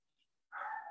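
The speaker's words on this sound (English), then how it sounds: "I apologize in advance for the barking dogs in the background" A single dog bark or yelp rings out sharply after near-silence in a home office setting, loud and brief.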